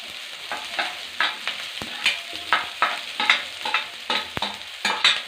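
Garlic-ginger paste and a bay leaf frying in a pan, with a steady sizzle broken by repeated scraping stirs at an even rhythm, close and moderately loud, no talking.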